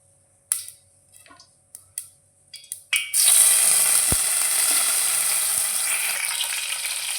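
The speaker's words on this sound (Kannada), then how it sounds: "ಫಸ್ಟ್ ನುದಿಯೇ ಒಂಚೂರು ಒಗ್ಗರಣೆ ದೀಕಂದು" A few small clicks and taps, then a sudden loud burst of sizzling as tempering spices hit hot oil for oggarane, with a pop around the middle, settling into a steady crackling fry until the end.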